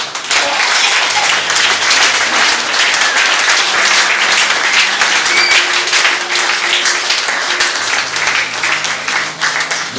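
A church congregation breaks into sustained, dense applause at worship, the clapping steady and loud throughout with a few voices mixed in beneath it.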